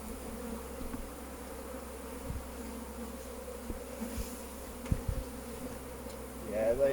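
Honey bees hum around a hive in a steady, faint drone, with a few soft knocks and rustles at close range and no voices.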